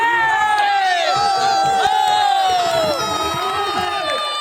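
Spectators at a volleyball tournament final cheering for a player, a loud, sustained wall of shouts and high whoops close by, with no break.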